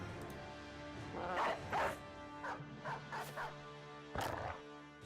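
A war dog barks in the video game Battle Brothers, several short yapping barks scattered over a few seconds beneath steady game music.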